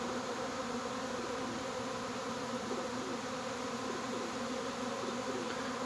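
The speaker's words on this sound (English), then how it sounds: "See the massive amount of bees" Dense honey bee swarm buzzing continuously, a thick, steady hum of many insects close by with no pauses or talk, at a hive during early swarm season.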